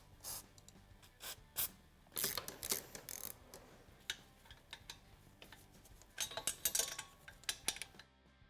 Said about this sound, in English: Now to remove the header, we'll remove these 2 bolts by the flange, and then we have one towards the back.